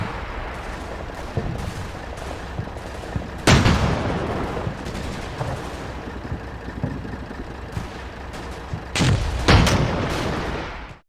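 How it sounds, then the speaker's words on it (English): Submachine gun fire in a war video game, with bursts of automatic shots rattling continuously at mid distance and two louder, closer volleys breaking through, with no talking. "He keeps pushing in, taking a lot of fire from the SMGs"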